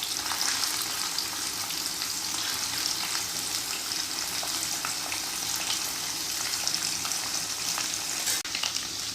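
Prawns fry in hot oil for a pickle, giving a steady, dense sizzling hiss that holds nearly unchanged from start to finish, close and moderately loud, with no one speaking.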